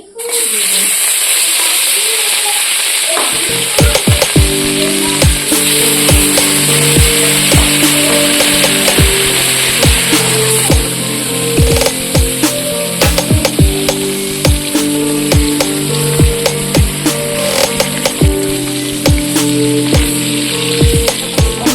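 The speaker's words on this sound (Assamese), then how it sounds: "ইফালে কেৰাহী গৰম হৈ আছে, ইয়াত মাছখিনি" Fish sizzles loudly in a hot wok after being added, a steady dense crackle of frying oil punctuated by sharp spatter pops and clinks, close and continuous, with a voice and background music faintly underneath.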